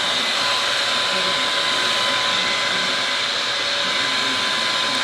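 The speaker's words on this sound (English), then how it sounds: "I'm just gonna use the fan for a little bit" An electric fan blows with a steady, loud whooshing hum that holds constant throughout, with no voices and no other sounds.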